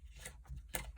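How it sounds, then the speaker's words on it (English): Scissors snip through cardstock while trimming a purple-based handmade birthday card, a few short crisp cuts spaced across a quiet moment, close and fairly soft. "just cut a little bit more off this because I want to show more of the purple of the card base"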